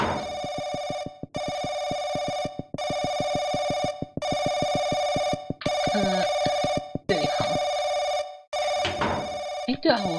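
A telephone rings over and over in the horror video game Paranoiac, loud electronic bell bursts repeating in a steady rhythm with short gaps between them, heard close and alone.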